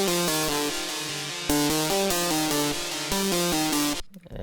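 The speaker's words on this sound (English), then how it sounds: "it's a pluck from the same Zenoza Xmas Bank" Pluck 6, a synth pluck patch from the Zenoza Xmas Bank, plays a bright, dark-toned melodic pattern of quick repeated plucked notes in a steady trap rhythm, loud and alone, stopping abruptly near the end.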